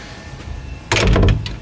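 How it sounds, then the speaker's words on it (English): A door in a school computer lab closes with a single short, fairly loud thud after a quiet room-tone stretch. "I recommend closing these doors."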